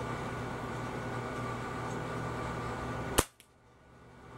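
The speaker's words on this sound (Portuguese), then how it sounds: "eu vou ter que dar um tiro a seco" A Gamo CFX air rifle is dry-fired with no pellet, giving one sharp, loud snap near the end after a steady hum of background noise, followed by a quick tail and near quiet.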